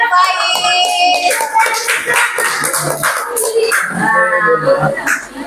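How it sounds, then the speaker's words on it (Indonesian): A classroom of children clapping hands for a pupil called to the front, brisk scattered claps mixed with chatter and voices. "Kasih tepuk tangan untuk Faiz"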